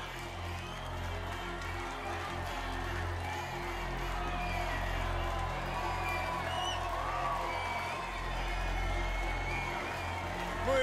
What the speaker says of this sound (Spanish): Fuerte aplauso para nuestra finalista.